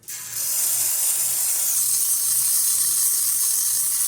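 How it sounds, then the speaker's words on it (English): A steady, loud hiss of steam blasting from a Lelit Bianca espresso machine steam wand, starting abruptly and holding constant, with a faint low hum underneath. "So let's test the steamer."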